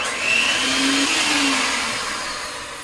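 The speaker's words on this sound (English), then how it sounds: "All right, Bob, mix it up" An electric mixer beating rum cake batter makes a steady whirring motor hum, moderately loud and close, with a slight pitch wobble as it runs.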